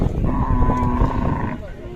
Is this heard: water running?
no